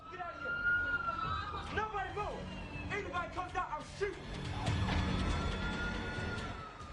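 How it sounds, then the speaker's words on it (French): A siren wails in the distance, its tone rising and falling beneath steady chatter and voices talking nearby. "ils entendaient les sirènes"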